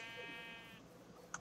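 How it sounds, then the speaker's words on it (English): A bighorn sheep in Minecraft's Twilight Forest lets out a single drawn-out, buzzy bleat lasting under a second, followed by a faint short click near the end. "Bighorn sheep."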